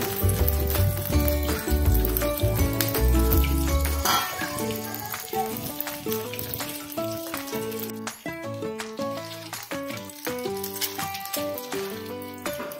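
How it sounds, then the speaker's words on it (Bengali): Eggs fry in hot ghee with a steady, close sizzle and occasional clinks of a utensil against the pan, with background music playing throughout. "আর এখানে ওই ঘিয়ের মধ্যে আমি ডিমগুলোকে ভালো করে ভেজে নেব।"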